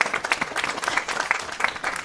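Audience applause at a Halloween outdoor rally for New York's Prop 1 clean water bond act, a steady sustained patter of many hands clapping at moderate volume with no voices on top.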